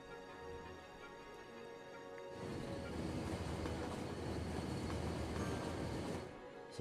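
Train rolling along a rail line in the city-building game Cities: Skylines, a steady rumbling wash that swells louder midway and holds before easing off, heard alone without talk.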